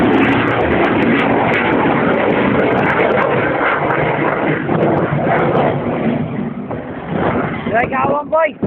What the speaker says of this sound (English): You see today is one of our two-seat trainer aircraft, and the tank you can see under the aircraft is not a form already called a weapon, it's a fuel tank.